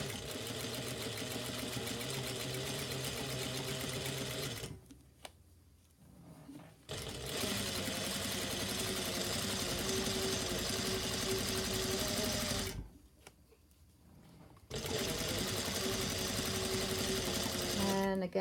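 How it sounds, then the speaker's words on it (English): A sewing machine stitches a shirt collar and collar band together, whirring rapidly and continuously in three long runs separated by two short pauses, with someone speaking softly alongside. "You can see how it's stitching smaller even by the speed."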